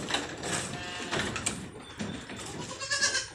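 Pet goats and sheep bleat on a farm in a close, overlapping chorus of short calls, with a little background noise around them.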